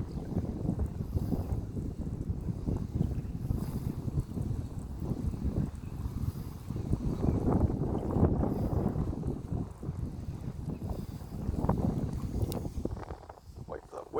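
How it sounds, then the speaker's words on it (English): Wind gusting beside the River Teifi, a steady low buffeting rush against the microphone that swells and eases, with faint rustling throughout. "Wait for that wind to stop blowing."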